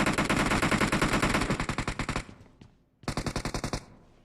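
Rapid automatic gunfire in the mobile battle royale game PUBG Mobile, loud and close, a long burst that tapers off, then a brief pause and a second shorter burst of evenly spaced shots.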